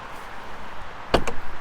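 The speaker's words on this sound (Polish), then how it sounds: "Drzwi bardzo ciężko się otwierają. Zwróćcie uwagę, ciągnę." Behind a low background hum, the heavy, crash-damaged rear door of a BMW 535i F10 xDrive is pulled open with one sharp loud clunk and a couple of fainter rattles.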